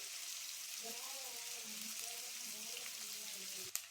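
Curry leaves hit hot oil for a thin country chicken curry, giving a steady hissing sizzle throughout while a voice talks over it, ending with a sharp click.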